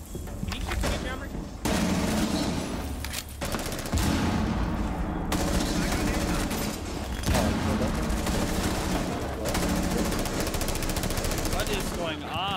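Rapid video-game gunfire crackles loudly and almost continuously, with dense bursts layered over game music and effects while players talk excitedly throughout.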